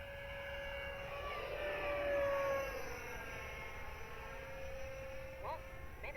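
FMS Futura 64mm EDF RC jet flying at a distance, a steady ducted-fan whine with tones sliding up and down as it passes, continuous over a broad outdoor hiss.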